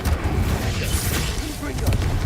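An Incendio fire spell cast in Hogwarts Legacy: a dense, booming, fiery rumble with heavy low-end weight that rolls on steadily for a couple of seconds, with a voice present.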